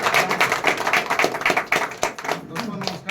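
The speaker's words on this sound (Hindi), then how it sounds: "एक बार जोरदार ताली राजेश सर" An audience at Rajesh sir's Topaz party claps in a dense, energetic burst of rapid hand claps, fairly close and loud, with a voice talking over the applause.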